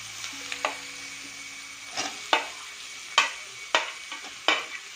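Capsicum fries in a pan with browned onions for egg manchurian, a soft sizzle under about five brisk, scraping stirs of a spoon, each stroke near and distinct, with no voices.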